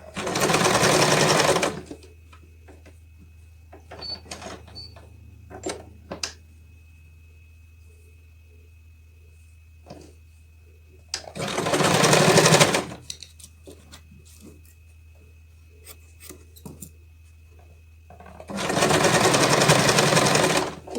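Sewing machine stitching pieces of quilt fabric, running loud and steady in three bursts separated by quieter stretches of handling fabric and small clicks.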